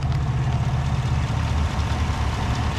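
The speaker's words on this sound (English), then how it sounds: "Right now it's just probably running on 4 cylinders, idling away real smooth here." A 2018 GMC Yukon XL engine idles steadily, likely on four cylinders, with a low, even rumble, close by and uninterrupted.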